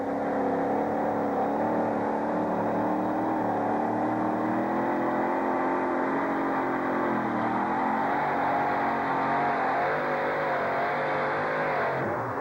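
A monster truck pulls at Anaheim Stadium in a 1991 USHRA event, its engine holding a loud, sustained roar with slight pitch wavering that runs steadily for the whole stretch, no voices over it.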